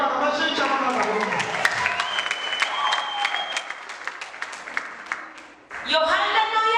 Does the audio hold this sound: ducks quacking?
no